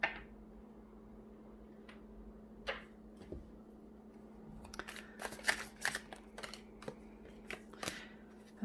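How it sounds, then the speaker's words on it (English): Tarot cards are shuffled and drawn in a quiet room, with sparse papery flicks at first and then a denser cluster of crisp riffling snaps near the end over a low steady hum. "So let me pull some cards."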